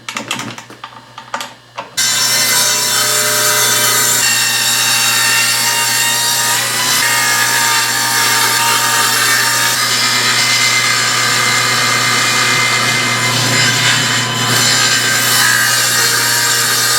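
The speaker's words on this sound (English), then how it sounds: "put the blade back on the table saw and see if it cuts" A table saw with a freshly sharpened blade cuts wood, opening with a few short clatters before a loud, sustained, even whine of the blade through the timber continues close up to the end.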